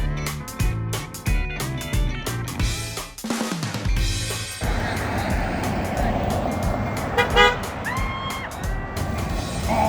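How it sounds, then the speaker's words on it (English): Car and bus horns honk repeatedly in busy traffic, several loud blasts and short toots over a steady rumble of engines, with one especially loud, long horn near the middle. "oh, goodness, that person had a very loud horn"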